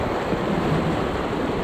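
Broadband rushing whitewater on the Ocoee River heard from a kayak among breaking waves, a steady, loud, continuous roar of churning water with no voices.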